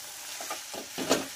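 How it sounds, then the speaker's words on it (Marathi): Mixed vegetables and paneer stirred in a pan, a few soft scraping strokes over a faint sizzle, brief and close. "त्याचबरोबर पनीर सुद्धा घालायचं आहे. आणि छान या भाज्या मिक्स करून घ्यायच्या आहेत."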